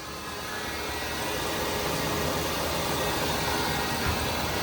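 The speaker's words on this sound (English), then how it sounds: "All right, I hear a pulley." A running 1994 Buick Park Avenue engine with a noisy pulley and a suspected power steering fluid leak gives a steady broadband whirring drone, close and constant throughout, with no talking.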